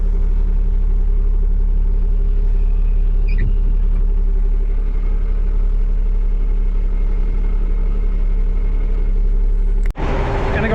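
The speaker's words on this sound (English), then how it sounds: "We're just gonna idle back in a little spot here and we're gonna go home." Dump truck engine idling, a loud steady low rumble with a constant hum that continues unchanged until an abrupt clunk near the end.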